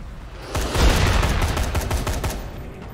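Automatic rifle fire in the video game Dead Rising 3: a single rapid burst of close, loud gunshots with heavy low thump, lasting about two seconds before tapering off.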